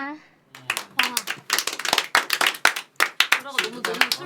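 A small concert audience claps after a song in scattered, uneven bursts, a few hands at a time, with a voice talking over the clapping and between the bursts.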